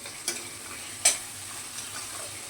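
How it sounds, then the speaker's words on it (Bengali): Spice masala with red chilli powder, turmeric and sugar sautés in a pan, a soft, quiet sizzle broken by two sharp scraping clicks of a spoon against the pan. "এবার ভালো করে মশলাটা কষতে থাকবো"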